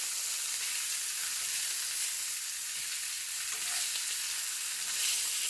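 Continuous crackling sizzle of Spam frying in a hot, greasy pan, steady and close, with no voices.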